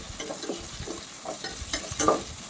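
Chopped shallots fry in a pan while being stirred, crackling sizzle broken by rhythmic scraping strokes about every half second, with a brighter clink near the end.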